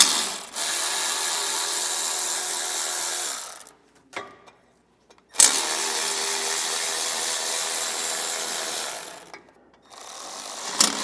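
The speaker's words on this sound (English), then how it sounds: "We'll take a T40 Torx bit and remove these screws that are holding this on." A ratchet driving a T40 Torx bit clicks rapidly and steadily while removing screws from a protective metal plate on a 2020 GM vehicle, in two long close-up bursts separated by a brief pause, with no talking.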